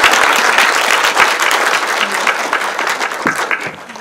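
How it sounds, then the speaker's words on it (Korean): A full audience at a filmmakers' talk with Beka & Lemoine breaks into dense, sustained applause, loud and close at first and gradually thinning toward the end. "박수 부탁드립니다"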